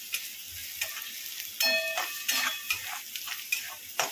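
Turmeric frying in hot oil for a village-style dal and onion dish, a soft steady sizzle broken by scraping stirs and light clinks of a spoon against the pan, close and without talk.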